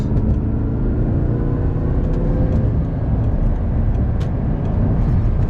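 A 2009 Audi R8 with the carbon package drives past a Prius on a road in Sacramento, its engine a continuous, rumbling road roar with a few brief sharp clicks.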